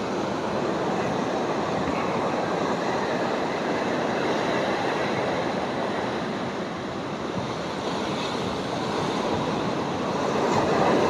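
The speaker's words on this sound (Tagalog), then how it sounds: "Malakas lang ang alon pero hindi pa ganun ka high tide talaga oh." Strong sea waves churn at a river outlet, a loud continuous roar of surf that holds steady for about eleven seconds with no voices.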